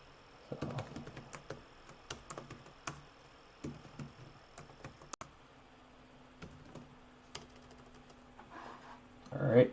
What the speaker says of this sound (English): I am done typing the password